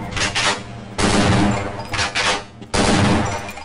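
Shotgun fire in the video game Half-Life: Opposing Force, with loud, full-band blasts in quick bursts, each followed by a short decay.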